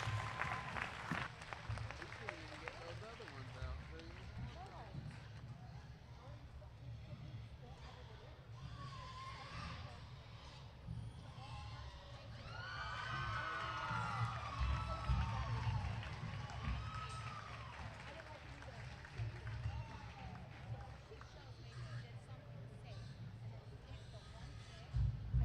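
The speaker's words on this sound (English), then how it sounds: "Let's give them one last round of applause." Applause and scattered cheering from a crowd at a market hog show, sustained clapping with people talking over it and a swell of louder crowd noise midway.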